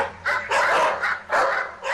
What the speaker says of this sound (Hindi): उसे चारों तरफ से कुत्तों ने घेर लिया।